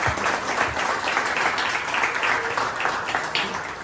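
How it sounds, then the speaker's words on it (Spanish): An audience at an education technology summit breaks into lively clapping, a crowd of hands beating steadily and close throughout without any speech on top. "ahora me les pido un aplauso a Claudia Marina."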